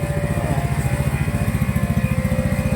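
A 200cc automatic mini jeep engine putters along on a test drive, a loud, steady low throb with a rapid regular pulse and no voices over it.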